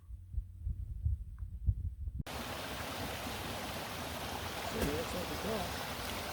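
A small mountain creek flows beside a trail in the Adirondack High Peaks. A few soft low thumps come first, then a continuous close rushing of water starts abruptly and stays steady to the end.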